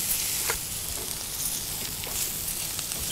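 Risotto rice with onions, garlic and mushrooms is stirred in a pan, giving a steady close sizzle with soft scraping strokes and no talk.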